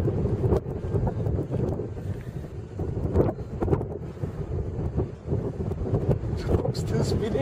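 Wind buffets an outdoor microphone at an X8 model aircraft maiden flight, a steady low rumble with gusty swells throughout, while people talk over it.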